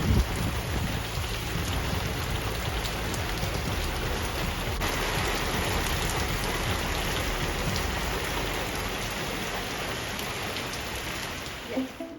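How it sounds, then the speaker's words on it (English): Heavy rain from Hurricane Milton pours down with gusting wind in a dense, loud, continuous roar. It stays nearly constant throughout with no speech. "the rain has picked up a little bit more. Starting to blow a little bit harder."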